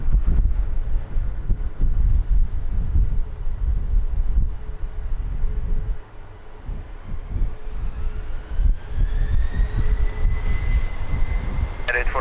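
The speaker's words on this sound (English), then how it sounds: "runway 20, clear for takeoff" Airliner taking off from runway 20 at Lisbon Airport in strong crosswind: a steady, loud engine roar with gusty wind buffeting the microphone throughout, a rising whine growing in the second half.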